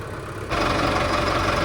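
A tractor motor starts up partway through and settles into a loud, steady idle, a low rumbling engine close by at a gurdwara langar.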